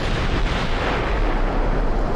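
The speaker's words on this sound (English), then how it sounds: "16-inch guns are doing a lot more damage than I was expecting." Heavy 16-inch naval guns boom in a battleship gunnery game, a dense, sustained roar of explosive blasts and shell impacts rolling together, loud and close with no talking.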